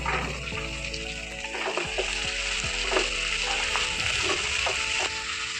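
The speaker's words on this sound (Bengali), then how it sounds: "আলুটাও দিয়ে দেবো, একসঙ্গে ভেজে নেব" Garlic and small diced potatoes fry in a pan with a dense, continuous sizzle, while repeated scraping stirs and light clatters sound close by, with no talk.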